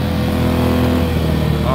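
An inverter generator with its low-idle mode switched off, compared against a Predator 3500 and an iPower 2000i, runs at a steady, loud, even drone with no breaks, while a voice talks over it.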